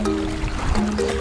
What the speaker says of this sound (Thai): ดูดิบ้านเราอ่ะก็มีลำธารให้ดู